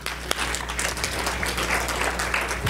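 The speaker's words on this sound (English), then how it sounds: "Let's give a clap for him." A crowd at a training session applauds steadily, dense clapping filling the space at moderate loudness with some low background hum and faint voices underneath.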